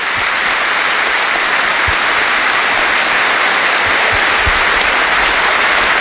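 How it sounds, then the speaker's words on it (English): A minute's applause around a football stadium at an Ipswich Town versus Brighton & Hove Albion match, with home and visiting supporters joining in: a vast, constant wash of clapping from a large crowd, distant and unbroken throughout. "a minute's applause around the stadium"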